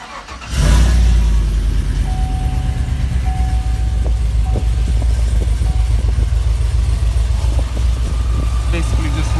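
A Whipple-supercharged Chevrolet Silverado with headers, new plug wires and a 3-inch exhaust cranks and fires at close range, then settles into a loud, steady, deep-throated running note with slight revving that lasts to the end.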